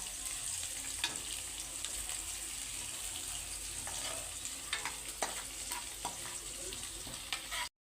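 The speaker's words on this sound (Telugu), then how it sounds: "వెల్లుల్లి రెబ్బల్ని కూడా వేసేసి లైట్గా ఫ్రై చేసుకుందామండి." Garlic cloves and curry leaves frying in hot oil while being stirred, a steady close sizzle with scattered sharp crackles and spatters throughout, no voices.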